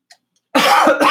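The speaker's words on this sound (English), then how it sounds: "I didn't cough because I smell this." A single short throat-clearing cough, close and loud, breaks a quiet pause during home fragrance-making, trailing into a couple of rougher follow-up rasps.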